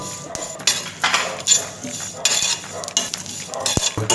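Cumin, fennel and timur seeds fry in a pan on a slow flame for mango chutney, with a soft sizzle under repeated scraping and clinking strokes of a spoon stirring close by, and no talk.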